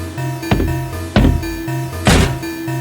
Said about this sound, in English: Dr. Anderson finally managed to kick the door down